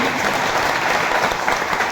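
Applause from an audience at a spiritual discourse gathering, a dense, steady clapping that fills the short stretch at close range.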